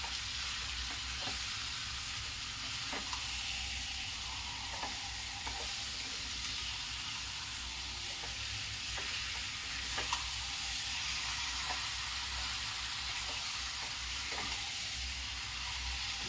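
Marinated chicken frying in masala for Bihari-style chicken curry, a steady sizzling hiss broken by regular scrapes of a spoon stirring the pan, close and continuous with no speech.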